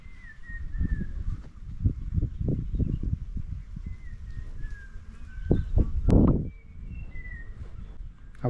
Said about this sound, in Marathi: पक्षी गाणं गाताना